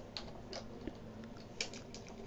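Computer keyboard keys are typed during a Photoshop editing session, a quiet run of irregular close clicks and taps with no voice.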